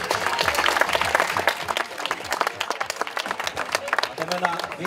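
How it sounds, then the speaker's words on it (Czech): A crowd at a T-Mobile Olympic running race awards ceremony in Hošťálkovice claps steadily for the race winners. The applause is dense and continuous over several seconds, with a voice speaking faintly beneath it. "Takže ještě jednou potlesk"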